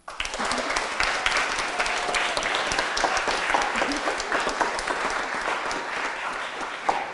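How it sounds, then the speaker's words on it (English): Loud, sustained applause from families at a Boy Scout troop Court of Honor, dense clapping that fills the room at an even level from start to finish. "please join me in recognizing their accomplishments with a loud applause"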